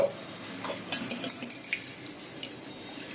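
Soaked plantain is strained of its water in a kitchen, with faint dripping and a few light clinks of a vessel, quiet and close.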